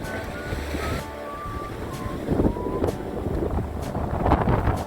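Cold winter wind blows at the seaside during a fishing trip in a cold-wave advisory, gusting hard against the microphone over rolling surf, with no talking.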